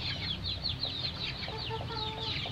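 Free-range village chickens cluck steadily in backyard coops, with several birds overlapping in a busy, continuous chorus at moderate distance.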